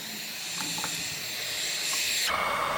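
Heat gun blowing a steady, hissing stream of hot air onto worn electric skateboard grip tape, one continuous close rush that grows a little louder and brighter toward the end.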